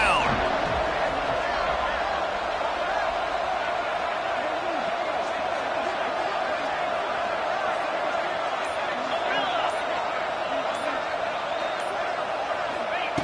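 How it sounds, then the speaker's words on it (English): Stadium crowd noise in College Football 26 during a 3rd-down defensive stand against LSU: a steady, dense roar of fans holds at an even level throughout, with commentary voices over it. "Crowd getting this defense whipped up on 3rd down."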